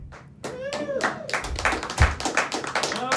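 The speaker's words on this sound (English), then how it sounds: "I hear people clapping in the background." Applause from a small audience crackles behind a voice on a live call-in talk show, arriving as dense, irregular hand claps that sustain through most of the moment at moderate loudness.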